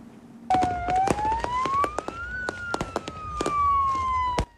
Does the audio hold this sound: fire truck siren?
yes